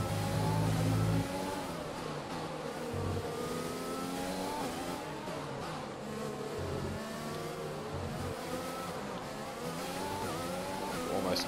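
F1 2020 race cars scream past with high, whining engines climbing and dropping through gear changes, several cars overlapping closely in a continuous race blare.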